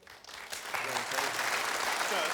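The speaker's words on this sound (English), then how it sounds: "a little bit of people have applauded that statement" A television studio audience applauds, the clapping swelling from a scattered start into steady, full applause that carries on to the end.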